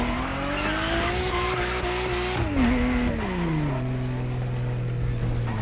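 A car in the video game The Crew Motorfest drag races down a runway on the island. The engine roars near and loud, its pitch climbing and then dropping through gear shifts, with tire squeal mixed in.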